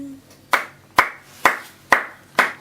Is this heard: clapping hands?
yes